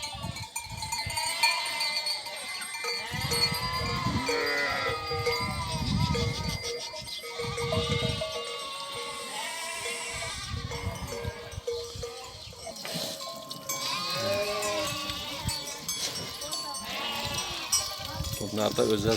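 On a highland pasture, many lambs and young goats reunited with their mothers bleat over one another in a noisy overlapping chorus, with occasional cowbell clanks and some talking mixed in.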